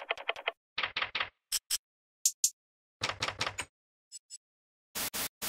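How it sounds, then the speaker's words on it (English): Assorted percussion hits in a pop beat: short, crisp clicks and taps in quick clusters, separated by brief silences, some bright and high, others with a low thump. "Then we have a bunch of different percussion sounds"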